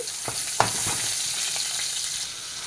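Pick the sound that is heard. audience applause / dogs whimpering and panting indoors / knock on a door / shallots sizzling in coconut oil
shallots sizzling in coconut oil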